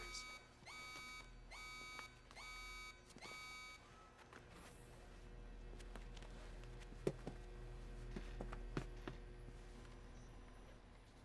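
An alarm in Splinter Cell: Chaos Theory sounds as a quick series of repeated electronic beeps in the first few seconds, followed by a low hum and scattered clicks.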